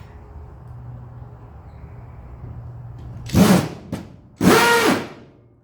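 A Makita cordless drill drives into pine wood in two quick, loud bursts with a brief blip between them, following a quiet stretch of low room hum.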